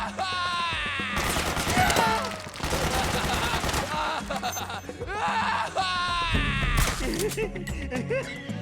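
Dense automatic gunfire as suppressing fire in Metal Gear Solid 4, loud rapid bursts rattling in repeated waves with shouted voices mixed in among the shots.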